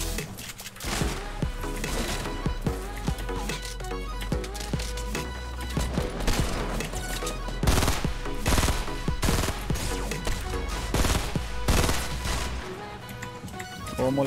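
Gunfire in a Portuguese-language tactical shooter, likely CS-style, at a park map: dense repeated shots and bursts over continuous game noise and music, loud and sustained throughout.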